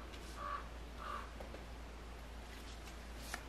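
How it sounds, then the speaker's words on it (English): Two faint caws from a crow in the distance, close together, over a steady low hum and soft background noise. "Haven't heard the crows all day, but they're here for the reading."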